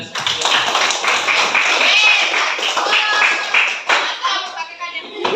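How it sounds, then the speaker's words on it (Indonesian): A grade 10 class applauds together at the end of a school lesson, dense and sustained clapping lasting several seconds with voices mixed in, tapering off near the end. "Mari kita beri aplaus untuk kita dari kelas 10"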